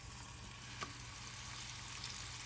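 A shrimp taco fries in melted butter on a grill, giving a steady, faint, close sizzle with one small crackle and no talking.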